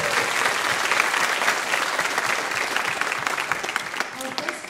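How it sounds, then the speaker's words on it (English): Applause from an audience at a high school international culture evening gala, honoring staff and librarians; dense, steady clapping from many hands filling the room, holding fairly even before easing slightly at the end. "Let's give them a round of applause."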